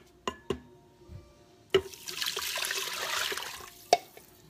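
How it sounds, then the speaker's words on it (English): Chicken stock and water pour into a pressure cooker coated with bacon grease, a sustained liquid rush after a few clinks and taps, close and moderately loud. "I'm going to go ahead and add 2 cups of chicken stock and 2 cups of water"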